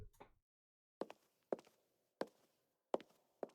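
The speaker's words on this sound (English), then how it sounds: "Okay, footsteps." Footsteps in the intro of a music video, slow, evenly spaced heavy steps with a soft scuff after each one, heard clearly against silence after a brief opening sound.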